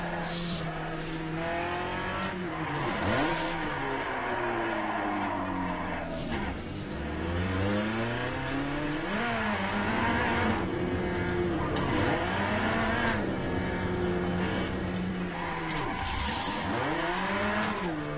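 An old front-wheel-drive Hyundai being thrown into drifts revs hard in repeated rising and falling sweeps, with scrappy bursts of tire noise between the surges, loud and continuous throughout.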